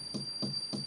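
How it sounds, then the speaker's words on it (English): A tree branch taps against window glass three times at an even, unhurried pace, each knock a dull close thud with a brief rattle over a quiet, steady background. "It was just a tree branch, tapping against the glass"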